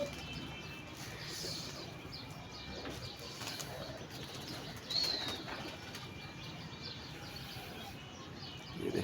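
Pigeon wings flap in brief bursts against a steady outdoor background hiss, with a soft coo now and then.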